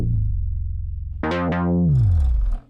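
A deep Basement synth bass patch on a Mini V synthesizer plays a low sustained note, then jumps to brighter plucked notes with a falling pitch sweep, loud and alone.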